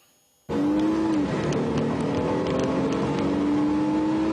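Race cars accelerate at an auto racing event in Poltava. After a brief quiet start, a loud, close engine roar bursts in with a rising whine that drops and climbs again, sustained to the end. No one speaks.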